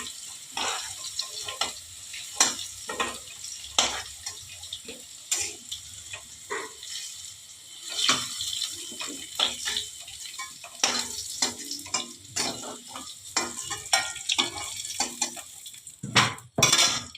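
Potatoes sizzle in hot oil in a pan while a spoon stirs them, a steady frying hiss broken by repeated sharp scrapes and clinks of metal against the pan, close and clear with no talking.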